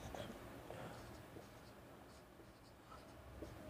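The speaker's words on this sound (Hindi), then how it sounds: "मैं ऊपर ही लिख रहा हूँ" A pen scratching out the solution set of a class 9 Cramer's rule exercise by hand, soft quiet strokes and taps in an irregular rhythm, close and faint.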